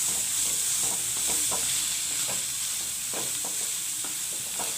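A snack fries in oil on a medium flame, giving a steady, even sizzle with scattered soft pops and occasional stirring clicks, and no one talks.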